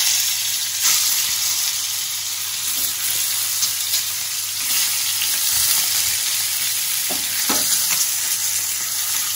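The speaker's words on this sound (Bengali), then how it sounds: "এইবারে আমি এখানে হালকা করে ডিমটা একটু ফ্রাই করে নেব।" Eggs frying lightly in hot oil in a wok give a steady, close sizzle with occasional soft stirring clicks, continuous throughout with no talking.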